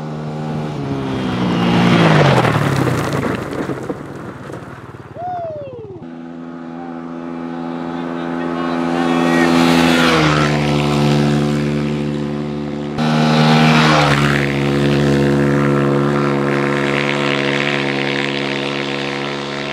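A stock Kawasaki KLX140RF dirt bike engine revs up hard and close, its buzzing pitch climbing, dropping with each gear change, and climbing again over about twenty seconds.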